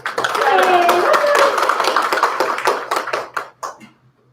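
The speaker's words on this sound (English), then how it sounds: "Round of applause for shout outs." Applause from a librarians' assembly business meeting, a dense burst of many hands clapping that swells quickly, holds, then thins into scattered claps and fades out near the end, with faint voices mixed in.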